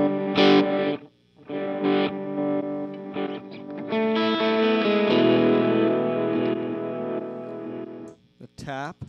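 Distorted electric guitar notes swell backwards into each other through an Empress Superdelay pedal's reverse delay, with short gaps between phrases and a warbling tail at the end.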